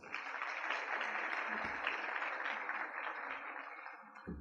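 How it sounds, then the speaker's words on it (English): New students at a 2023 university orientation in Pietermaritzburg give themselves a round of applause, a faint, distant-sounding wash of steady clapping across a large room that thins slightly toward the end. "Please give yourselves a big round of applause."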